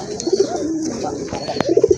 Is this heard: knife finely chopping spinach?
no